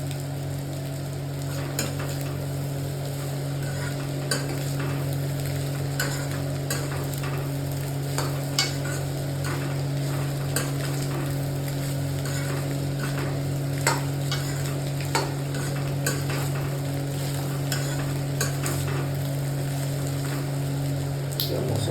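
Spicy Maggi noodles fry in a pan with spices while being stirred, producing steady close sizzling over a constant low hum, with scattered scraping and tapping of the spoon throughout.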